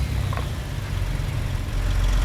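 A DD60 12.7-liter truck engine idles in American Truck Simulator, a steady low rumble with a regular throb holding even and fairly loud for the whole moment.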